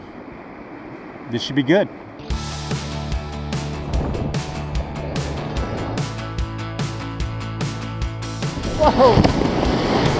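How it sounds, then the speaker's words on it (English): Whitewater on a California river rapid surges into a loud, steady roar of rushing water and waves around a kayaker, with splashes and a voice exclaiming over it. "It's a pretty good rapid, got some nice waves, diagonals, they're gonna kick hard."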